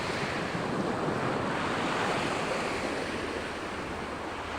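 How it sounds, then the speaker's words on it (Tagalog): Sea waves wash continuously onto a beach at a clear-water resort, a steady broadband roar with wind buffeting the microphone and no voices. "Pag nanood ka ng alon, parang natutuwa ka."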